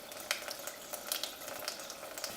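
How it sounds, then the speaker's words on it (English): Water being poured off a pot of cooked rice into a sink, a faint steady splashing trickle with small irregular spatters, close by and without voices. "Try and keep the rice in the pot and just drain the water"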